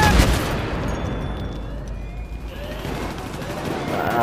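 Grenade blast in Battlefield 3 gameplay, a loud burst at the start followed by a rumbling, crackling decay of battle noise, with a voice shouting in the clip.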